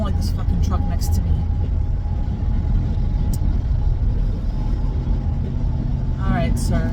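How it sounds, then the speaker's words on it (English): A truck idling close by, with a steady low rumble running throughout beneath someone talking. "I don't like this fucking truck next to me."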